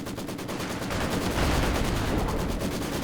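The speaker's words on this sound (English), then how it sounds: "Decent first barrage." A dense, continuous roar of rapid explosions and gunfire from an artillery barrage in Company of Heroes 2 stays loud and sustained throughout.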